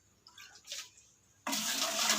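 Water pours into a plastic bucket. After a quiet lead-in, a loud, steady rush starts abruptly and continues close by.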